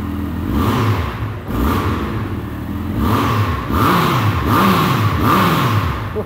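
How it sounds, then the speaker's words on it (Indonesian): A Honda CB1300 Super Four SP motorcycle with stock engine and stock exhaust, revved close up: a loud mid-pitched engine rising and falling through repeated throttle blips, with a constant underlying rumble. "kita akan dengerin lagi suara mesin dari motor buas ini"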